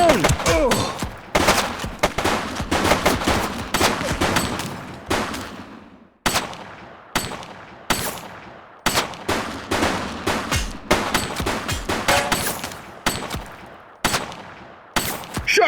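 Repeated gunshots in The Precinct, a police video game: sharp single shots and short volleys, each with a fading echo tail, firing in an irregular rhythm over a quieter background.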